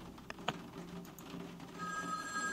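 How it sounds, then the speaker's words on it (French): A telephone rings as a sound effect in a horror tabletop role-play game, a faint electronic ringing tone that comes in toward the end over quiet background clatter. "Le téléphone sonne."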